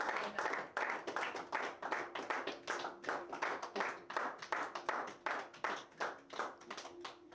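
Church congregation clapping to acclaim the Lord, a steady run of rhythmic hand claps that carries on through the whole stretch at even volume, with no voices over it.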